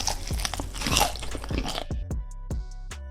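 Teeth bite into crispy fried buffalo chicken wings, giving several loud, close crunches followed by softer chewing crackles, with no talking.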